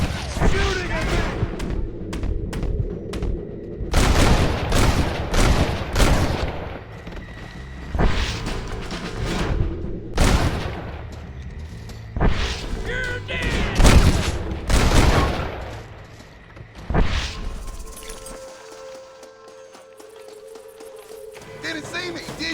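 Gunfire in the video game Red Dead Redemption: clusters of loud, rapid shots and booming reports come in irregular waves over about twenty seconds, with voices talking between and over the shooting.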